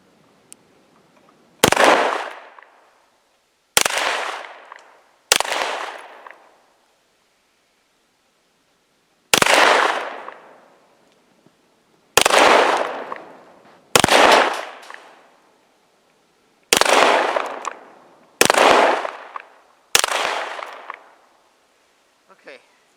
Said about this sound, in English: So, first shot's gonna be double action. Let's see what it does here.